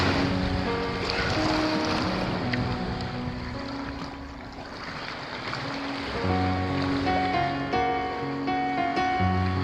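Calm sea at low tide inside a cave beneath the Ribadesella cliffs, reached by kayak: a continuous, fairly loud wash of water and wind, with tonal sounds layered over it throughout.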